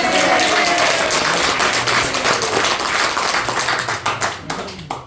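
A church congregation at a March 1st Independence Movement memorial service claps together loudly and steadily for about five seconds, the rapid applause thinning and trailing off near the end.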